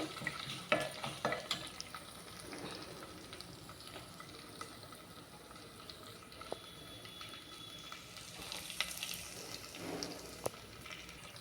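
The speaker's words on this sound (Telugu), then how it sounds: "మంచిగా తాలింపులు బాగా ఏగనివ్వాలండి" A tempering of spices for Telugu pesara pappu charu fries in a pan, giving a soft, steady sizzle with occasional stirring clatter, faint and without voices.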